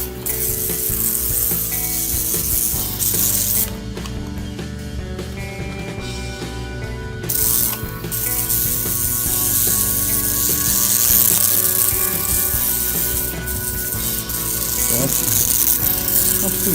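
An Aurora vibrator slot car chassis running on a track, a continuous loud buzzing, rattling mechanical whir that holds steady throughout with slight shifts in pitch.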